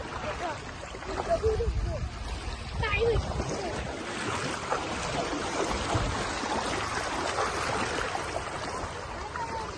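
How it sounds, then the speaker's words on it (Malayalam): Floodwater current rushes over a submerged road in a monsoon-hit area, a continuous broadband churning roar close by, with someone speaking over it. "ഇവിടെ അത്യാവശ്യം ഒഴുക്ക് കേട്ടോ ഈ ഭാഗത്തായിട്ട്"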